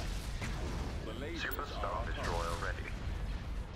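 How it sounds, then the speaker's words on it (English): Laser batteries on a starship firing in a Star Wars space battle game, a dense continuous barrage of blasts and booms layered with voices talking over the steady din. "All batteries commence firing."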